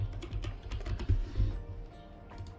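Quick, light keystrokes tap on a computer keyboard in a short close-up burst of irregular clicks, with no talking.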